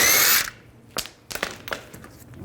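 Power tool on the wheel lug bolts of a 1998-2010 Volkswagen Beetle: a loud half-second burst of spinning, then several short sharp clanks and rattles as bolts and the wheel are handled, close and without talk.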